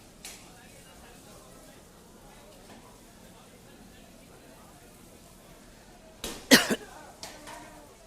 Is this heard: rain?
no